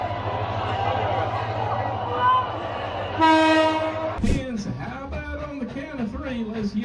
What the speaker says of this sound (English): tell the engineer to blow that whistle real loud